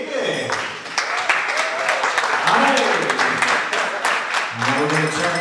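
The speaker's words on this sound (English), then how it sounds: "Nice round of applause to David." Guests at a wedding reception at Arrow Park in Monroe, New York, applaud after a toast: steady, dense clapping fills the room, with voices and cheers rising over it throughout.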